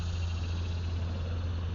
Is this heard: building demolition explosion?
no